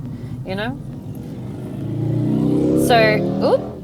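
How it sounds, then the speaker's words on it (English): A big chopper motorbike engine rumbles past, swelling louder then fading, while a person talks over it. "that was a nice bike. Did you hear that one? It was a nice big chopper."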